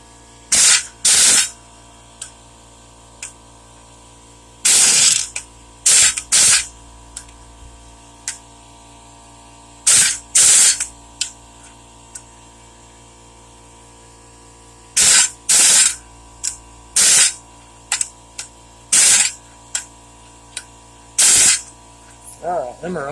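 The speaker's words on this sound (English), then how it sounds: "Got our bolts here and our impact, and we'll get busy with that right now." Cordless impact wrench driving washered bracket bolts on a Dodge Ram 1500 during power steering pump work, firing in short repeated bursts of two or three rattling hits with quiet pauses between, close and loud.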